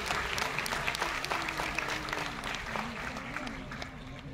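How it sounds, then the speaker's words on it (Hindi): Audience applause at a Kargil Diwas program held by the Veer Jawan Foundation, a steady crowd clapping honoring a woman named Purnima, with voices and chatter mixed underneath throughout. "एक बार जोरदार तालियां पूर्णिमा जी की"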